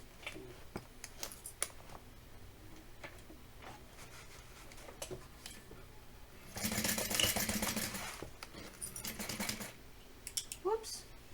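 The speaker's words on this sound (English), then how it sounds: "Now we're going to stitch down these sides at a 1/2 inch seam allowance." A sewing machine stitches down the sides of a tote bag at a half-inch seam, a dense burst of rapid stitching running about two seconds mid-clip between sparse clicks and handling taps.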